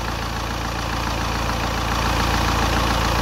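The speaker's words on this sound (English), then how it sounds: "as you can see, the compressor's cutting in now" A Saab 93 engine idles with a steady pulsing low throb as the A/C compressor engages, its load adding a slight rise in loudness toward the end of a few seconds of close, continuous engine noise.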